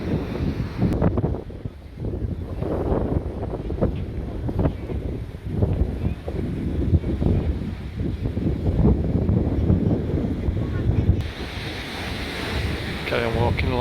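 Strong wind on a beach walk in Corralejo roars hard against the microphone in loud, steady gusts, with surf washing in behind it.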